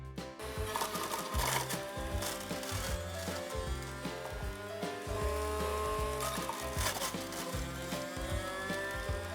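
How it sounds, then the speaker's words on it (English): A Rico centrifugal juicer from a juicer mixer grinder set juices carrots, giving a loud, steady motor whine with rhythmic chopping and grinding pulses as the carrots are fed in, close by and with no one speaking. "a centrifugal juicer which extracts juice from almost all fruits and vegetables till the last drop and neatly and quickly"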